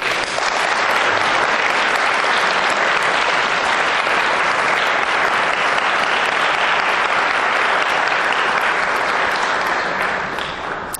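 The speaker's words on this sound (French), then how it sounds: "Je veux applaudir Claude." A large crowd at a Sainte-Anne feast-day gathering bursts into sustained, loud, even applause that holds at full strength for about ten seconds before easing slightly.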